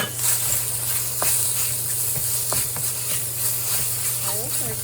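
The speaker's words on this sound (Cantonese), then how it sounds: "薑片起鑊，將啲豬肉甩落去先" Diced pork hits a hot wok with ginger slices, giving a steady hiss and sizzle with a few sharp clatters and scrapes of a spatula, close up and loud, with a faint low hum underneath.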